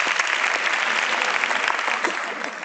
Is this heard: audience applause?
yes